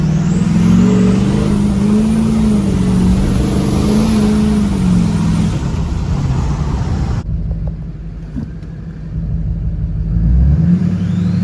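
A Duramax diesel pickup truck accelerates at full throttle, a loud close engine roar climbing in pitch through the gears, then dropping to a lower rumble as it shifts and pulls on.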